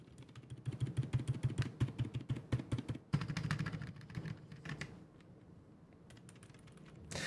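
Rapid keystrokes on a quiet white Dark Project x AKKO 5087S mechanical keyboard, tested on a desk. The clicks are soft, dense and steady for about five seconds, then thin out into a few scattered taps before fading.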